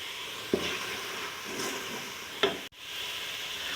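Spice masala frying and sizzling steadily in a pan for hari moong daal, a continuous moderate hiss with a couple of brief stirring clicks, no voices.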